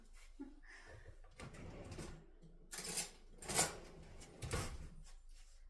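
A metal spoon scrapes and clinks inside a container, quiet at first, then a few louder close scrapes near the end, with no talk.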